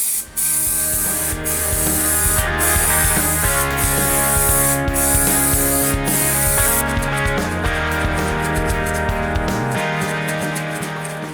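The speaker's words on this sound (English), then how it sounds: "As a clear coat I apply several coats of a glossy spray lacquer." A loud, continuous hiss of glossy lacquer from a spray can onto a guitar runs almost the whole time over steady background music, with short breaks where the spray stops and restarts.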